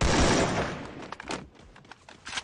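Gunfire in the battle royale game Free Fire: a dense burst of rapid shots at the start that thins into a few scattered, sharper cracks, fairly loud and without talk.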